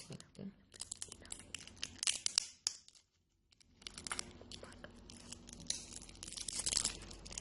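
Crinkly plastic packaging of a Yu-Gi-Oh! card box is torn and crumpled in bursts of sharp rustling, with a brief quiet pause midway, close to the microphone.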